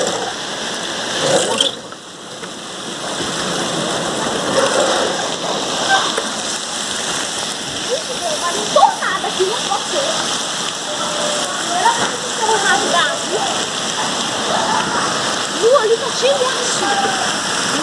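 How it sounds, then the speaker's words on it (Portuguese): Heavy rainstorm in Belo Horizonte, a steady dense roar of falling rain and splashing water that runs without a break, loud and close. "Nossa, que chuva é essa?"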